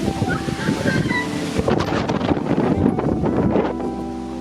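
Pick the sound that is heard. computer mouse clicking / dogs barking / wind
wind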